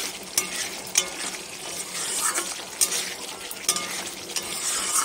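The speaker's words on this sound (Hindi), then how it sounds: "इसे हम अच्छी तरीके से और फ्राई करते रहेंगे।" Katla fish cooks in a yogurt masala in a pan, Bengali style, giving a continuous close sizzle broken by repeated scraping stirs and light utensil taps, with no talking.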